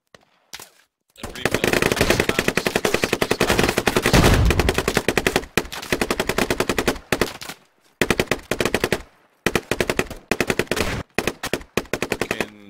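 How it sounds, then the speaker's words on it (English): Rapid automatic gunfire in the video game Squad, loud sustained bursts broken by short pauses, with a heavy deeper thump partway through that could be a grenade blast. "We're just spamming fucking grenades."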